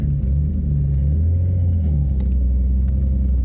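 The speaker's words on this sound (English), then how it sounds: "Second gear pull off." An '83 Toyota Cressida pulling off in second gear, a steady low engine rumble heard from nearby with a faint rising tone and no talk.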